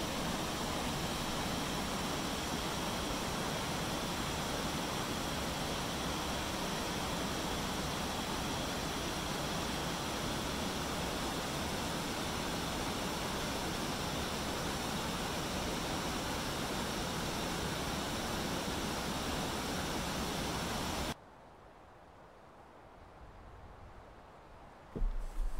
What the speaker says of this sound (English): The creek is diverted in numerous small cascades, finding its way through the rubble.